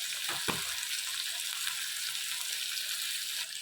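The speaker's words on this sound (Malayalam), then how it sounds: "ഇത് വഴന്ന് വരുമ്പോൾ തന്നെ ലേശം മഞ്ഞൾപ്പൊടി ഇട്ട് കൊടുക്കണം" Ivy gourd sautés in a pan with turmeric, a continuous gentle sizzle with a couple of stirring clatters near the start, heard close and on its own.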